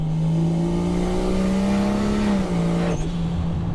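A Toyota Supra's turbocharged engine with a log manifold pulls hard under acceleration, its tone rising steadily, then a brief turbo flutter as the throttle lifts near the end.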